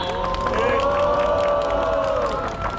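Large outdoor rally crowd applauding and cheering together, a dense sustained wash of clapping and shouting that stays loud throughout.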